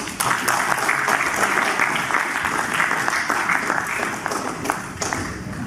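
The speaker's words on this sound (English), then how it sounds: "can we give it a big round of applause" Conference audience at a blockchain event in Singapore applauds a panel discussion: a moderately loud, steady burst of clapping with individual claps standing out, lasting several seconds.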